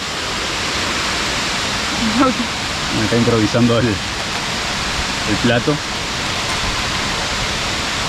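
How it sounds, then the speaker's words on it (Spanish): Rushing water from the Cawi waterfall in Venezuela's Gran Sabana makes a constant broad hiss throughout, while a few people speak briefly over it in the middle. "entramos a la cascada Cawi"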